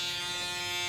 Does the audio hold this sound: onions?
no